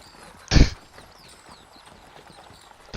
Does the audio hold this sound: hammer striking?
no